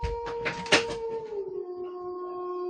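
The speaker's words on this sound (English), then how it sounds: "What in the hell is going on out here with this just maniac dog" A dog howls outdoors, a drawn-out wavering tone that slides down in pitch, with a few rustling knocks at the start, at moderate loudness and not very close.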